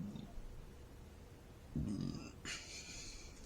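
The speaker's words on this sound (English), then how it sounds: "since I stopped the video to burp" A single short, low burp from a man at 1.8 seconds, close and fairly quiet, with only faint room noise before and after it.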